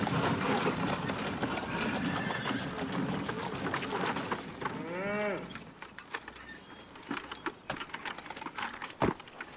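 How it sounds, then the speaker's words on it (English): Cattle on a ranch in a Western setting, one drawn-out moo rising clearly over a busy outdoor background, followed by scattered knocks and thuds, fairly close with no speech. "I want to stay and watch cattle."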